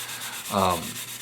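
Close-up rasping of a small sanding stick, up to 800 grit, rubbing back and forth on a plastic 1/350 scale submarine model, with a slightly louder stroke in the middle.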